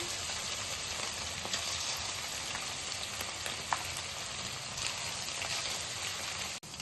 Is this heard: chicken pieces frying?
yes